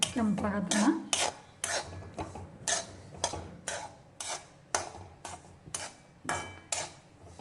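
Semolina roasts slowly in a pan while a spoon scrapes and taps the metal in a steady, repeated rhythm, each clack close and distinct with a short gap between strokes.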